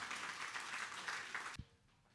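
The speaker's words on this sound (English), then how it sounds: "So please join me in a nice round of applause for these folks." Applause for school board candidates at a Lake Bluff town meeting fills the room as a steady, dense wash of clapping that stops abruptly near the end, followed by a brief thump and quiet room tone.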